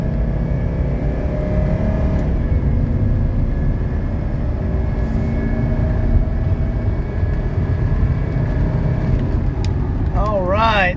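A 1985 Mercedes 300TD wagon diesel drones loudly as it accelerates in traffic, a continuous rising engine roar with road and wind noise; a brief warbling tone appears near the end.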